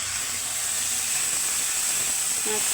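Ginger garlic paste with chili and turmeric sizzles in hot oil in a pan, a steady close hiss lasting throughout with a brief faint tonal sound near the end.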